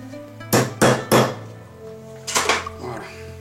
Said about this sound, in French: Si je trouve mon petit marteau.